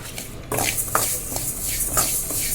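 Sesame seeds fry in a pan as they are stirred, with repeated scraping strokes of a spoon and clinks against the metal over a constant sizzle, close and fairly loud.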